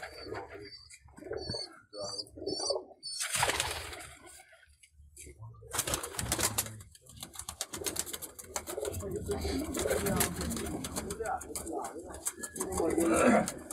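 Teddy pigeons coo in a loft, soft repeated calls and wing or shuffling sounds close by, with someone talking over them through much of the stretch.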